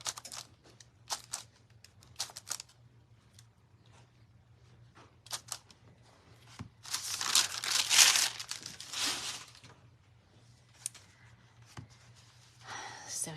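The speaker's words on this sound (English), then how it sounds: "Let me get this tape off." Tape peeled by hand off a freshly sublimated ceramic ornament, heard as a crinkly, tearing rasp that swells for a few seconds mid-way, set among scattered small handling clicks and rustles.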